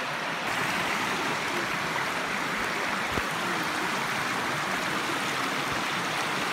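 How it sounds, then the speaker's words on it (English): A river in a redwood forest rushes loudly and evenly, a dense wash of flowing water that fills the whole moment without any talking. "We found the river. Hooray! You can obviously hear it."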